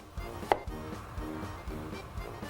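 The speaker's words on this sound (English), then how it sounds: "you can cut these into about 1/4 inch wide slices" A knife cuts red potatoes into quarter-inch slices on a board, a few close, soft, evenly spaced chops with one sharper knock, no voices.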